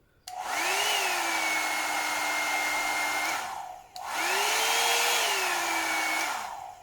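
A Revlon One-Step hair dryer on its low setting 1 blows with a steady whirring hum, switched on twice in a row with a brief dip between, loud and close with no talking.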